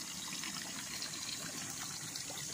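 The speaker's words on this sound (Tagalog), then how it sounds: "titingnan nyo po yung mismong tubig nandyan sa nanggagaling sa lupa maagos po siya" Spring water rising from the ground and running through a pipe at a farm lot beside a river, heard as a steady, soft trickling and gushing flow, close and continuous with no talk.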